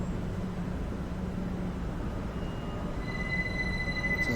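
Electric commuter train in a London rail simulation game, a steady low rumble of wheels and motors with faint high squealing tones joining toward the end, no talk.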